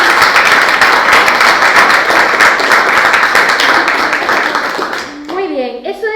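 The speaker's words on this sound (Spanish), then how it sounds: "pues un aplauso para ellos" Warm applause for first-year secondary school students at an intergenerational podcast event, a full, even wash of clapping from a roomful of people that dies away, followed by a brief voice.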